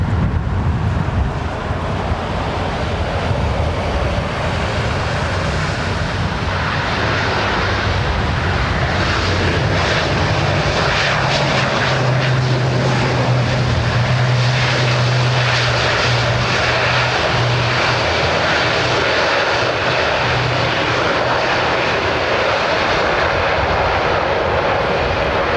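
A large airplane roars loudly and continuously at London Heathrow Airport, its engines rumbling for the whole span with a rising whine in the middle and a hint of wind buffeting.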